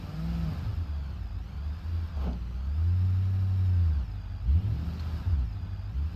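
An off-road vehicle in BeamNG Drive, front differential locked and in low gear, climbs a ledge with a low engine drone that swells under careful throttle and then eases off.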